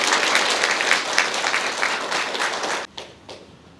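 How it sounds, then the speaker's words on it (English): Seminar audience applauding for Daniel, a dense round of clapping from a room full of people that holds steady and then stops abruptly, leaving a few scattered claps. "Can we give another round of applause for Daniel"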